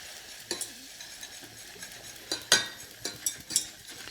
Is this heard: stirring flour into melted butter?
yes